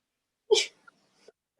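A single sharp sneeze close up, followed by a couple of faint small sounds and quiet.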